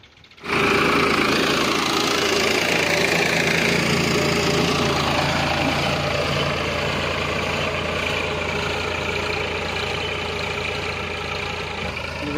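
A tractor tilling a farm field runs with a loud, steady diesel engine drone and rhythmic knocking that starts abruptly and holds constant throughout, close by, with no voices.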